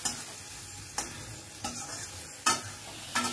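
A spice paste fries in a pan under a constant soft sizzle, with a spatula scraping and stirring it in a few distinct strokes about every second, close and quiet.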